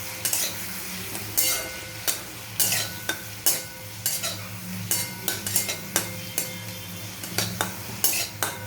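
A chilli paneer mixture, just sweetened with sugar, sizzles in a pan while a spatula scrapes and knocks against the metal in a quick, regular rhythm of about one stroke a second, close and distinct, with no talking.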